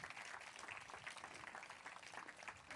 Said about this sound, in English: Let's give the mayor a great round of applause.